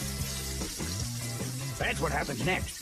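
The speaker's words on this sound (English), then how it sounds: "Your chicken is Kentucky Fried to order" KFC chicken fries to order in hot oil, a bubbling sizzle running under a person talking.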